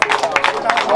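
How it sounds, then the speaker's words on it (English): Scattered hand claps from a group at a house opening, sharp and irregular, mixed with lively talking and shouting close by. "don't stop clapping, don't stop clapping"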